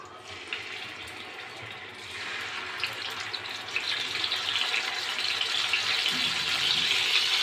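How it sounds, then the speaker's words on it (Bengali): Pieces of snakehead fish frying in hot oil in a pan, a steady close hiss of sizzling that swells and grows louder over the second half, with no talking. "সবগুলো মাছ দিয়েছি তেলের মধ্যে মাছগুলো এখন আমি ভেজে নেব"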